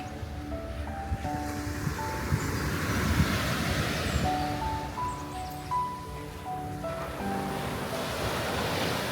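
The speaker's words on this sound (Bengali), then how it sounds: "সমুদ্রের গর্জন শুনলে সত্যি মনটা যেন কেমন করে ওঠে" Sea waves roar along the Langkawi seaside, a continuous broad wash of surf with swelling peaks, mixed with wind buffeting the microphone.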